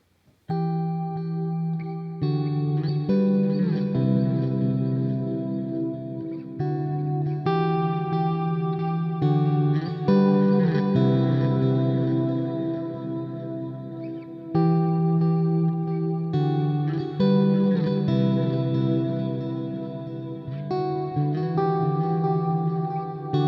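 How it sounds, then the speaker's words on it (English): Electric guitar played through light delay and reverb, working through octave and third shapes: sustained, ringing chords and double-stops with echoing tails, steady and moderately loud, no voices. "I'm going to turn on maybe a little bit of delay and a little bit of reverb"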